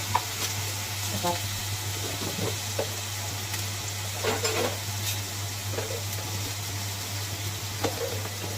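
Onion and ginger-garlic paste sizzle and fry in a pan, a steady hiss running throughout with a few clinks and scrapes of stirring, close and fairly loud, with no talk.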